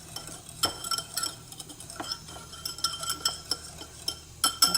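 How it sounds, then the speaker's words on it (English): A mini whisk beating a melted butter mixture in a bowl, quick clinking and tapping strokes against the sides in an uneven rhythm, close and fairly crisp. "I'm gonna give that a good whisk here"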